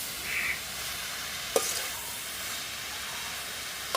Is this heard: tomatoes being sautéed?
yes